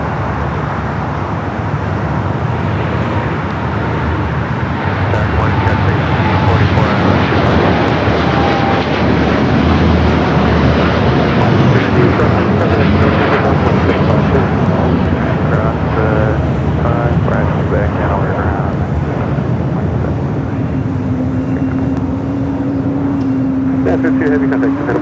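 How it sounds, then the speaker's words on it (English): A United Boeing 787-9 Dreamliner rolls down runway 25 right at LAX for takeoff, a steady, heavy jet roar that holds for the whole stretch, with a rising tone near the end. "United Flight 32, it's a 787-9 Dreamliner heading to Tokyo Narita, now rolling down"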